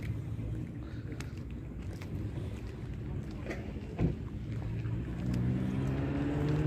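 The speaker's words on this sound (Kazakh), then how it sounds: "Машина жанып тұр." A 2017 Lexus car sits with its engine running, a low, steady idle rumble heard from nearby, fairly quiet, with some wind noise brushing the microphone.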